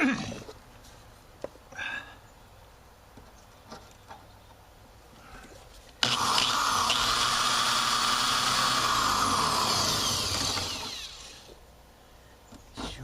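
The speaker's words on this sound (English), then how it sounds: "I'm gonna drill that" A power drill whirs loudly and steadily for about five seconds, drilling out a screw on a van step, then winds down, preceded by a few clicks and handling noises.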